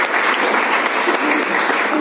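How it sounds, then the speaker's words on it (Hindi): Loud, dense applause from a crowd at a business club meeting, steady clapping filling the whole brief moment without letup. "एक बार जोरदार तालियां"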